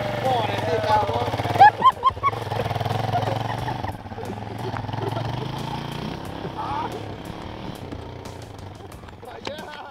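A motorcycle engine rumbles steadily nearby, with clattering bursts early on and voices talking over the running motor.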